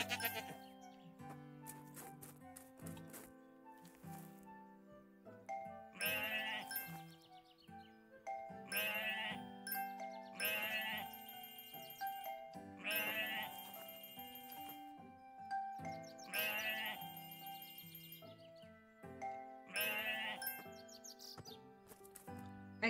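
In the farming game Harvest Island, a goat bleats in short bright bursts every few seconds over a continuous looping game melody, fairly loud and close, with nobody talking.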